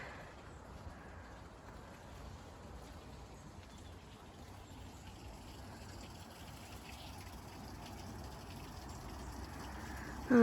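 The River Irvine rushes past at a fast pace after heavy rain, a steady broadband roar of flowing water heard alone and fairly distant, growing slightly louder toward the end.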